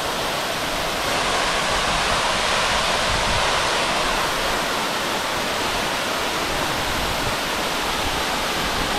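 A waterfall in the Kolli Hills drops roughly 80 feet, giving a steady, loud broadband roar of crashing water that stays unbroken from start to finish with no voices.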